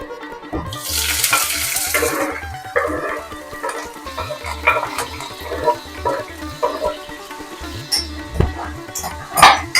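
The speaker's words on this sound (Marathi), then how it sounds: "फोडणी आपली चांगली तडतडली आहे" Cumin, curry leaves and green chilies crackle and sizzle in hot oil, with sharp pops over a rhythmic scraping of stirring in the pan.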